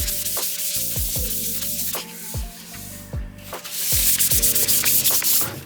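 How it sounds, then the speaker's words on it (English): Sandpaper of 220 grit rubbing over an oil-based polyurethane finish on a small side table made from a chair, a close, steady abrasive scratching in repeated back-and-forth strokes. "after 2 coats, I'll go over it with 220 grit sandpaper"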